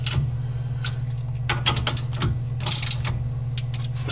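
Ratchet clicks from tightening the rear spring bolts on a 1964 C2 Corvette, a string of sharp irregular ticks close by over a steady low hum, with no talking.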